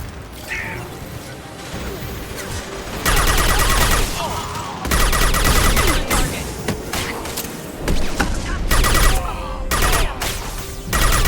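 Sci-fi combat in the video game Mass Effect 2: loud, dense bursts of gunfire in repeated volleys, with crashes and mechanical clatter, nearly continuous across the clip with brief lulls.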